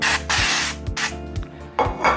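Short bursts of cooking oil spray misted over a king prawn salad, several hissing puffs with gaps between them, close and fairly loud with no talking.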